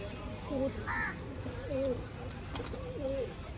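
A female flying pigeon coos softly several times in a close, indoor setting, the short throaty calls spaced about a second apart with a voice audible in the background.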